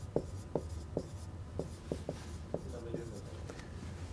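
Chalk or marker strokes on a board during a mathematics lecture, about ten evenly spaced taps and scratches, quiet and close, with faint whispery room noise.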